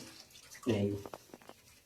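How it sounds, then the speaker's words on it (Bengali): Washed leafy greens for fritters being squeezed by hand, giving one short, close, wet squelch and trickle of water that fades into quieter handling. "পাতাগুলো সুন্দর মতন হলে এভাবে একটু জল টিপে নিল"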